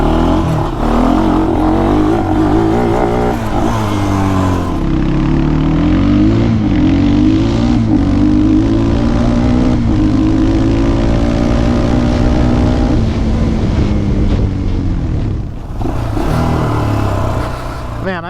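Scrambler ATV engine droning steadily and loud while riding off-road on uneven, off-camber ground, revving up and easing off, with a brief dip near the end before the engine picks up again.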